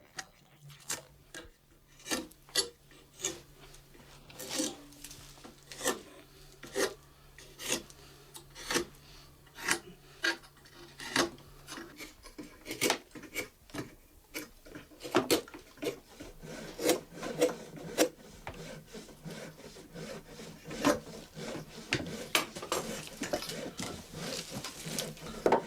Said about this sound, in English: shortening the teeth to uniform length while simultaneously sharpening their points